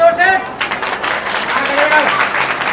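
Children clap loudly at a government girls' senior secondary school results event in Firozpur Jhirka, a dense burst of applause with voices calling over it throughout.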